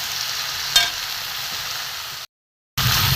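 Mixed winter vegetables and pumpkin sizzle steadily in a hot pan as they are sautéed, with one brief clink early on. The sound drops out for a moment and then returns.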